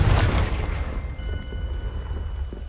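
A Confringo spell explosion in the Hogwarts Legacy video game, a deep booming blast that rumbles loudly at first and then fades into a low, lingering roar.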